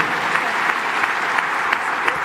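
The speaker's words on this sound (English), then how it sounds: "Everybody's clapping their hands for you." Audience applause at a live Save Soil discussion event, dense steady clapping from many hands with a few sharper claps standing out, fairly close and continuous throughout.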